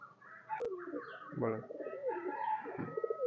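Low, throaty coos from a high-flyer pigeon roll out in a few soft bursts, close by in a pigeon loft, with one sharp click near the start.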